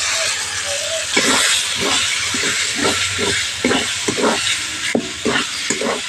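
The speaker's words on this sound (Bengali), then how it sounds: "ভেজে রাখা আলুগুলো দিয়ে মশলার সঙ্গে ভালো করে কষিয়ে নেব।" Fried potatoes are stirred into a spice masala that has cooked until the oil separates, giving a loud, continuous steamy hiss and sizzle with a string of knocking scrapes from the stirring spoon, heard up close.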